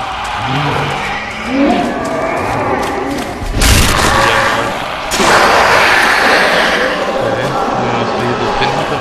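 Explosion in the video game Dead Island Riptide: a sudden loud deep boom around the middle, followed by a sustained roaring rumble and noisy crackle over steady game ambience.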